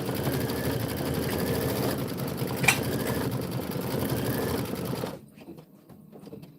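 A home embroidery sewing machine stitches out a Kimberbell tiling scene, running in a steady, fast mechanical whir close by for about five seconds before stopping abruptly, leaving quiet room tone.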